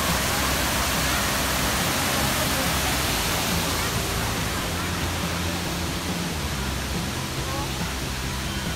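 Chet Sao Noi Waterfall, a seven-tier waterfall where tourists play in the water, gives a loud, steady rushing roar of falling water that fills the scene from close by without a break.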